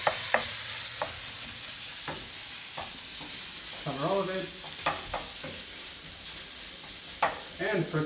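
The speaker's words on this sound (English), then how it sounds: "I give it a nice stir" Ground meat with tomato paste being stirred in a pot for chili con carne: a steady soft sizzle under scraping spoon strokes and occasional clanks against the pot, with a brief voice in the middle.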